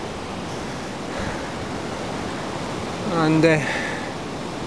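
Big surf breaking along the shore at Arbroath, a dense constant roar of crashing waves with a brief swell in loudness, a short voice briefly heard over it.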